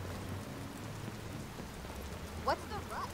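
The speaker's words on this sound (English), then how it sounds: "It's raining." Steady rain pours in the Watch Dogs game world, a constant hiss of drops on surfaces with low rumbling underneath and a brief higher-pitched chirping sound near the end.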